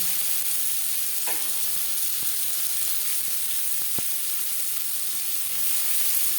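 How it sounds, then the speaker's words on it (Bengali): Chopped onion fries in oil in a wok after fish pieces were fried, producing a loud, continuous close-up sizzle with a few faint clicks, no voices. "মাছ ভেজে নেওয়া কড়াইতে আবারও তেল দিয়েছি। দিয়ে দেবো পেঁয়াজ কুচি"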